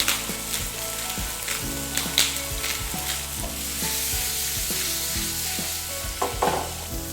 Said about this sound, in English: I'm going to saute tofu.